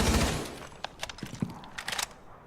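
Several gunshots in Rainbow Six Siege Terrorist Hunt, a loud burst at the start followed by scattered sharp shots and clicks that fade into quieter, irregular pops.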